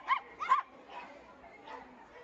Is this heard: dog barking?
yes